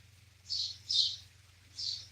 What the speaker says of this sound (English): And the birds are definitely in full song today.